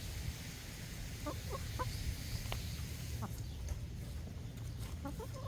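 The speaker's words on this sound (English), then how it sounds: "So we are out here with the chickens." Several chickens cluck in short bursts outdoors in a garden, moderately near, over a steady low hum of background noise.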